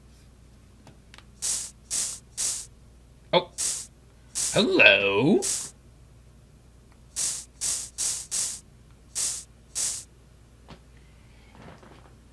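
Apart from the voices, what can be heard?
spraying sound in Phoenix Wright Ace Attorney video game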